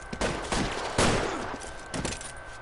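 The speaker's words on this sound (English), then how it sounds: "211 and shots fired." Gunfire in the L.A. Noire video game during a police shootout, several loud overlapping shots and bursts spread across a couple of seconds amid busy background noise.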